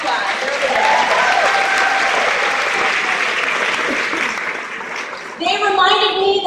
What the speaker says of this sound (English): we give them a round of applause.